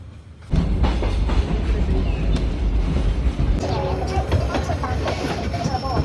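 The Kuranda rainforest train rolls along with a steady low rumble and rhythmic clatter of the wheels, heard from inside a carriage, with faint voices in the background.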